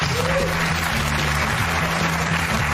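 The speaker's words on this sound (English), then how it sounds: "Give her a round of applause." Studio audience applause on a daytime talk show, a steady dense wash of clapping held at even loudness for a few seconds, with a low steady hum beneath it.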